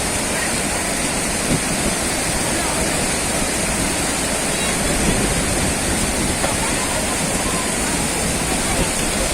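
Water rushes and churns steadily as people bathe, a dense continuous splashing roar that stays at a constant loudness. Voices are faintly buried beneath it.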